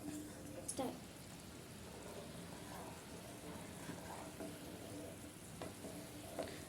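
Sugar syrup boiling in a pan for a milk powder burfi, a soft continuous bubbling and sizzle with a few brief clinks of stirring, and a voice speaking at times over it.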